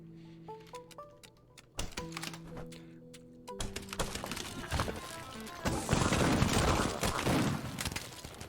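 Missiles launching and bursting in the roguelike video game Billy's Nightmare, a dense, crackling barrage that swells loud over the second half, after sparse electronic game tones and clicks.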